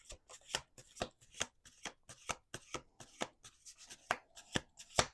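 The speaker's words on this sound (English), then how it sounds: "Last shuffle." A deck of cards shuffled up close, with a run of crisp riffling bursts in an uneven rhythm and soft pauses between them and no talking.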